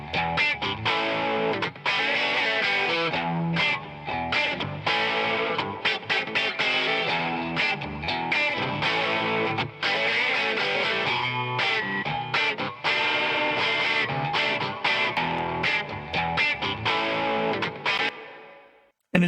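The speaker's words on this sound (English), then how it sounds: "let me play you before and after, just the guitars on this" Heavily distorted electric guitars with wide cross-panned reverb, mixed in REAPER, play a dense, loud riff-driven passage alone. Brief dropouts come through the playing, and the sound cuts off at the end.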